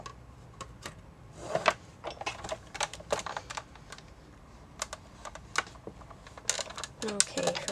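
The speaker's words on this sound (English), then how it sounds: "don't worry, the cracking is perfectly normal. There's nothing wrong. That's just the pressure of the plates going through the machine." A die cutting machine crackles and snaps as the plates are pressed through it with patterned paper for a takeout box die. The sharp, irregular clicks come close and in scattered bursts over faint background noise.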